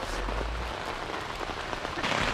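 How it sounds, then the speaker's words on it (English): Rain falls steadily at a campground in Harriman State Park, a dense, continuous patter across the whole stretch with a brief low rumble at the start. "We just got here and it's raining."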